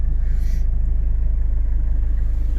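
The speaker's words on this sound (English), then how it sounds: "So what I want to do for you guys now is just kick the engine on" A 1994 Toyota Townace 4x4 diesel van engine turns over and settles into a steady, close, loud low rumble, with a brief brighter burst near the start as it catches.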